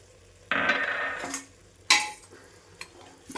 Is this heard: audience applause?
no